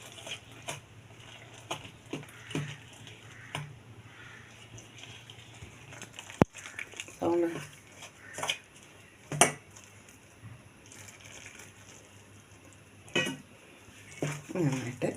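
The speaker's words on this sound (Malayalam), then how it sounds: "ഇങ്ങനെ തിളച്ച വെള്ളം നമ്മൾ ഈ പൊടിയിലേക്ക് നന്നായി ഒഴിച്ച് മിക്സ് ചെയ്യാം" A spoon scrapes and clinks against a bowl as boiling water is worked into flour for homemade jackfruit ada, with scattered faint taps over a low, steady kitchen hum.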